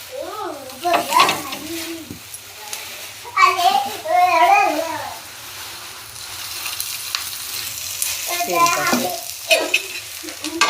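Onion frying and being stirred in a pan, with a steady sizzle running underneath and stirring scrapes scattered throughout, while children's voices come and go over it.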